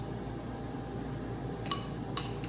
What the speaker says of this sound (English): I've got the air fryer and the dishwasher going right now